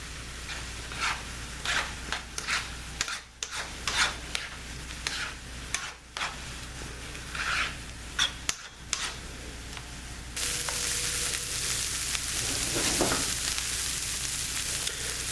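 Chicken sizzles and fries in a pan over high heat while it browns, with intermittent stirring scrapes and clatters, then a steadier, louder sizzle toward the end.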